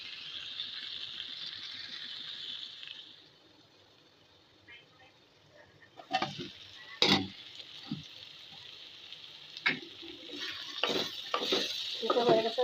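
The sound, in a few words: stirring red yard-long beans frying with potato and shrimp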